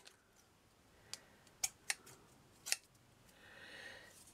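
Scissors trim excess material from a miniature seaside surf shack model, giving a few quiet, sharp snips spaced irregularly, close by in a hushed room.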